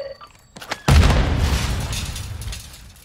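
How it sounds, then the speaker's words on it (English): A grenade blast in Call of Duty Warzone: a single loud, sudden boom that rolls into a long rumbling decay, with faint game sounds just before it. "I threw a fucking grenade."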